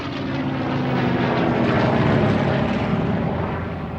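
A North American P-51 Mustang fighter plane drones past with its propeller engine, a loud, steady roar that swells slightly near the middle and then eases off.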